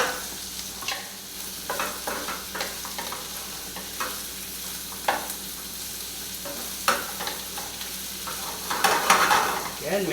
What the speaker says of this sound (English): I'm going to add the nice fresh spinach. Let that cook down a little bit.